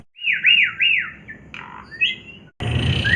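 Stressed Asian pied starling (jalak suren) giving a run of loud, close, wavering squawks and harsh calls, a few short bursts followed by a sudden noisy clatter at the end.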